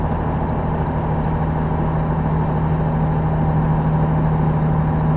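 Steady low rumble of a heavy truck's Jake engine brake held on a steep downhill grade near Sam's Gap, Tennessee, a continuous droning tone with no letup and no talk.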